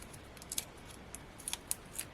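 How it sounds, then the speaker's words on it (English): Scissors snip through card during cardmaking with a Hunkydory Clockwork Curiosities collection: a handful of quiet, crisp cuts in an irregular rhythm, close by with no talk. "And then if I grab my scissors, try not to cut myself."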